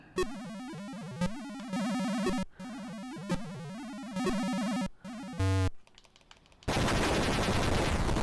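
Video game gunfire in a shooting stage: rapid synthetic bursts of automatic fire repeat in short volleys with brief pauses, ending in a harsh burst of noisy explosions.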